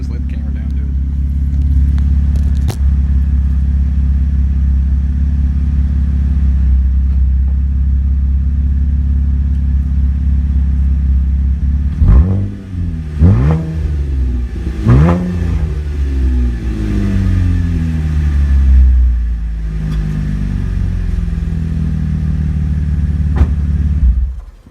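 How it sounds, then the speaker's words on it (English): A 2015 Chevy Impala LTZ with a custom dual exhaust idles with a deep, steady rumble, then is revved three times in quick succession around the middle, each rev swelling and falling back, with a final short blip near the end. "when I get somebody else to sit here, I'll rev it up"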